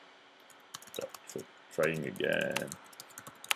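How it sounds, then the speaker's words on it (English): Close, quick clicking of a computer keyboard in short bursts as a title is typed, with a person speaking briefly over the keystrokes. "And now I can type the title."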